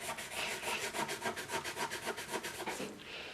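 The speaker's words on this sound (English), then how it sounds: "you see how I'm scrubbing this with this little scrubber right here" A small scrubber rubbing rust off a countertop, heard as a steady, close, rhythmic back-and-forth scratching of about fifteen quick strokes that stops just before the end.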